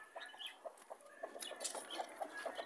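A broody hen clucks in soft, repeated bursts at close range, a steady series of short throaty calls with a faint background hiss and no talking.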